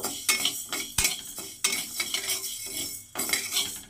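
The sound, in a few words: dry roasting lentils in a pan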